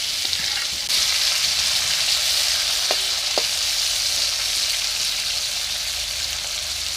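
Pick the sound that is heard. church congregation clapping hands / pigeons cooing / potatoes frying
potatoes frying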